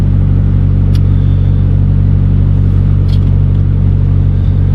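A Nissan Pulsar engine running at high idle, a loud steady close rumble holding even throughout with no talk.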